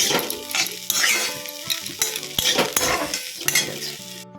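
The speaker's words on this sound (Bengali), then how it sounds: "আমি একটু লাস্টে ঘি দিয়ে দিচ্ছি, টেস্টি হয় ঘি দিলে" A spoon stirs crunchy snacks frying in a pan after ghee is added. Loud, close scraping and clinking of metal on the pan comes in uneven bursts over a steady sizzle.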